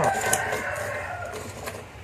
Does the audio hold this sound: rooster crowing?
yes